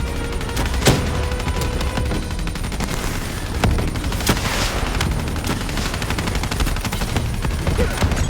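Sustained automatic gunfire concentrated on an armored boss in the Call of Duty: Black Ops 3 mission "Demon Within". Dense rapid bursts and sharp cracks continue without a break over game background noise.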